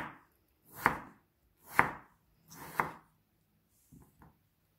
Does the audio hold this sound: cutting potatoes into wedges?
yes